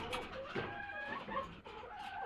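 Free-range chickens in a small poultry unit holding up to 128 birds cluck softly and continuously, several hens at once, in a faint, busy barnyard murmur with no talking.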